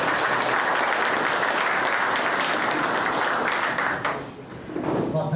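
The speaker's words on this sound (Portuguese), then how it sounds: "dá uma salva de palmas para eles." A technical refrigeration-seminar audience applauding, dense sustained clapping that fades near the end as a few thumps and shuffles follow.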